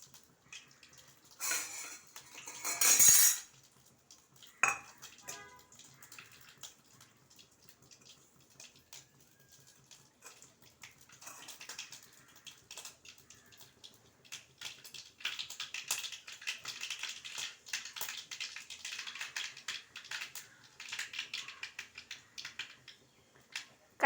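Mustard seeds crackle and pop in hot oil in a pan on a stove, a burst of dense spluttering early on, then a steady scatter of small sizzling pops throughout, close and fairly quiet.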